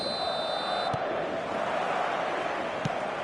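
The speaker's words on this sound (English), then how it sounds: "all the ingredients for a showcase game that the passionate crowd demands." A passionate stadium crowd in the eFootball 2025 video game fills the air with a steady, dense roar, cheering on a clear night before a showcase match, with no other sounds standing out.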